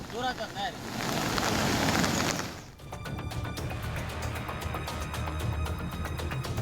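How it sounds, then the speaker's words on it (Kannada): Heavy monsoon rain in Yadgir district, Karnataka, a loud, dense, steady roar lasting under three seconds, with a brief voice near the start, before it cuts off abruptly to music. "ಯಾದಗಿರಿ ಜಿಲ್ಲೆಯಾದ್ಯಂತ ವರುಣಾರ್ಭಟ ಮುಂದುವರೆದಿದ್ದು ಭಾರಿ ಮಳೆಯಿಂದಾಗಿ ಜನರು ಸಂಕಷ್ಟ ಎದುರಿಸುವಂತಾಗಿದೆ"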